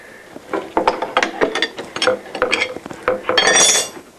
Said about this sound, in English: So I'm going to remove the straight cut bit.